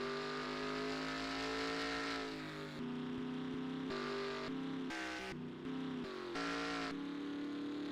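Race car engines roar in a NASCAR Cup Series racing video game at Las Vegas, a continuous loud drone with shifting pitch as several cars rev and pass, no talking.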